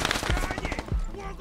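Short bursts of gunfire in a multiplayer World War II-style shooter game, a few rapid shots and a couple of heavier booms, heard close amid busy game noise.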